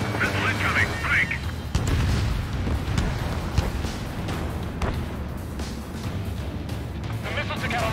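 Booms and blasts of incoming missiles striking in the Ace Combat 7 flight game, played on hard mode, loud and continuous under a steady engine roar, with radio chatter voices over them.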